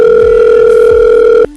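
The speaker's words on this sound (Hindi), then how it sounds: "अपने मम्मी पापा को जल्दी से कॉल करो" A phone calling tone holds loud and steady for over a second, then cuts off abruptly, leaving a brief quiet rustle.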